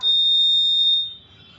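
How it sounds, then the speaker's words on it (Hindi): A packet sealing machine on a pulverizer and masala grinder setup emits one sustained, loud, high-pitched electronic beep as it seals a pouch, then cuts off, leaving faint background noise. "अब इसको जैसे दबाएंगे बीप करेगा, और जैसे पैक हो जाएगा बीपिंग इसकी बंद हो जाएगी"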